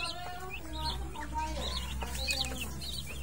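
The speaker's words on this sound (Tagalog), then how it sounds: "Sisiw natin, malaki-laki na po sila." A group of young chicks chirping, many thin high peeps overlapping in a steady cluster nearby, with a low background hum and faint talk.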